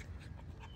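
A small dog pants in quick, close breaths, a brief burst of soft rhythmic huffing with no talk over it.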